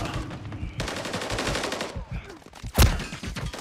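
Sustained rapid automatic gunfire from the game Sodium Warfare 3 rattles steadily for about two seconds, thins out, then a single loud sharp blast cuts through, with crackling fire continuing under it.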